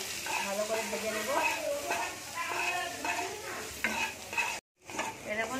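Soybean chunks fry in a pan of oil while being stirred, producing a continuous close sizzle broken by scraping strokes. A voice talks over it, and everything cuts out briefly near the end.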